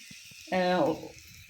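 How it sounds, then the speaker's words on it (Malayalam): Water from crushing ginger and green chilies poured into a hot pan, a sudden loud sizzle lasting about half a second and quickly fading, with talk around it. "ഇഞ്ചിയും പച്ചമുളകും ചതച്ചതിൻ്റെ കല്ലാണ് അതിലത്തെ വെള്ളം അതിൽ ഒഴിച്ചു കൊടുക്കുന്നുണ്ട്"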